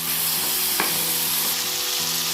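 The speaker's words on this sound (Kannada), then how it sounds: "5 ನಿಮಿಷ ಫ್ರೈ ಆಗ್ತಾ ಇರಲಿ." Peas, potatoes, tomato and turmeric sizzle steadily in a pan with ginger-garlic paste for capsicum bath, an even close frying hiss with a faint stir or tap partway through.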